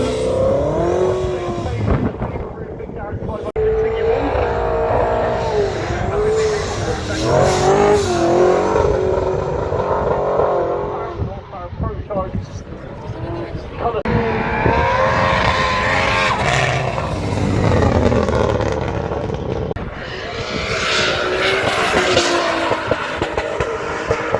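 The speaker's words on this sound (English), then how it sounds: "the drifters are heading out for another session" JDM and BMW drift cars run a session on a track at a spring action day, engines revving hard and loud, rising and falling continuously with a short lull midway.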